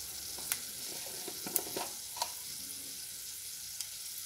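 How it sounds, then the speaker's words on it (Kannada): Mustard seeds and green chillies sizzle in hot oil, a soft continuous fry with a few sharp crackles and pops scattered across it. "ಈ ಸಾಸಿವೆ ಮತ್ತು ಮೆಣಸಿನ್ಕಾಯಿನ ಇಟ್ಕೊಂಡಿದ್ದೆ, ಅದು ಹಾಕ್ತಾ ಇದ್ದೀನಿ"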